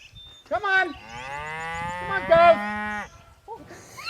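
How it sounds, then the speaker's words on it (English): Cattle on a beef farm moo out in the open pasture, one long, loud, drawn-out low call dominating the middle, with a shorter moo at the start and another brief call near the end. "Cows are coming."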